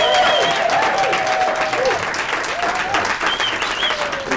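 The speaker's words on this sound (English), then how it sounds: "we heard a round of applause in the background with that bit." Round of applause from a live audience at a podcast recording, a dense continuous wash of clapping, loud and sustained, with voices and cheering mixed in over the top.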